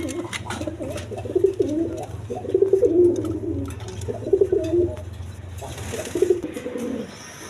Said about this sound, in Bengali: দর্শকবৃন্দ এখানে এক পেয়ার রেড কালার আপনার লাহোরি কবুতর আছে, একদম বিগ সাইজে।